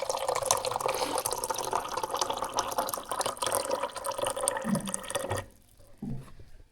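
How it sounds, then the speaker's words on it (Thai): Drinking water runs steadily from a tap left open at a farm house, a continuous broadband splash and trickle that fills most of the clip before cutting off abruptly near the end, leaving a quieter tail with faint noises. "ส่วนอยู่นี่ก็น้ำกินเปิดไว้ตลอด เปิดตอนใดเย็นตอนนั้น"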